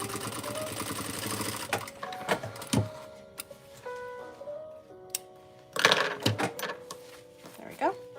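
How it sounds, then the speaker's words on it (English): A sewing machine chain pieces a baby quilt in short bursts of rapid stitching, close and clear, with pauses and soft handling noises between runs and speech heard at times. "What I'm doing right now is called chain piecing."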